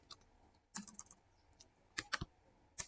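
Quiet keystrokes on a computer keyboard while a query is typed, arriving in short irregular bursts of clicks with brief pauses between, close to the microphone in a quiet room.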